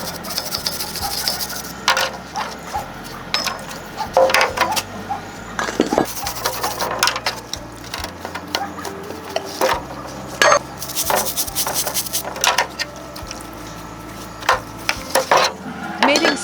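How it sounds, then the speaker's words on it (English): Scrubbing a grooved car gearbox case clean, a steady run of rough rubbing and rasping strokes with scattered sharp scraping clicks and brief knocks, close and fairly loud. "Every groove and oil passage in the gearbox case is scrubbed clean"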